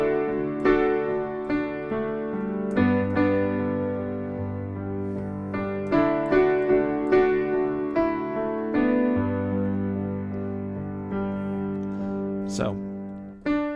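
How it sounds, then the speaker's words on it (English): Solo piano playing the intro of a song, a steady series of chords and stepping melody notes with a deep sustained bass, close and clear with no voices. "But we did skip over the full piano part on the intro,"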